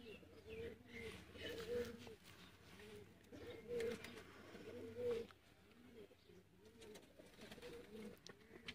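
Sialkoti pigeons with pearl-marked eyes coo nearby in a repeating rhythm of soft, rolling calls, with faint background chirps and someone speaking in between.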